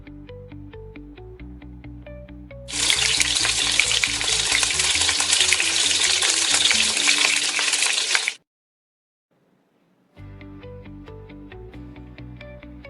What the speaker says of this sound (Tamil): ஃப்ரைக்கு கொஞ்சமாக ஆயில் சேர்த்து கடுகு, வெங்காயம்,